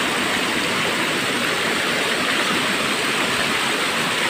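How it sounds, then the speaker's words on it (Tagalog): Candungos waterfall at Barangay Pinamitinan in Marabut, Samar, roaring in a steady, dense rush of falling water that holds loud and unbroken throughout, with no voices. "This is Can Adolfo Falls of Pinamitinan."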